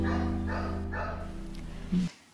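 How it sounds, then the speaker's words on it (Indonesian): A dog barks in the yard of a house, giving a few quick, loud barks close by within a couple of seconds. "Mereka dikejutkan dengan gonggongan anjing di halaman rumahnya."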